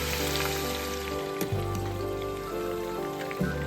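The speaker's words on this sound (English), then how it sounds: "Fry in hot oil" Thinly sliced red onions fry in hot oil, giving a steady dense crackling sizzle throughout with faint tonal background music underneath.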